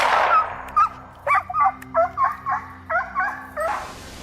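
Hunting dogs on a wild boar hunt giving a rapid series of about ten sharp, fairly close barks and yelps in an irregular rhythm, with no talk.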